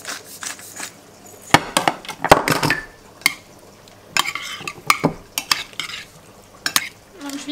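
Zucchini crumble mixture with basil being stirred in a dish, giving repeated close scraping and clacking strokes of a utensil in an irregular rhythm, with no talking.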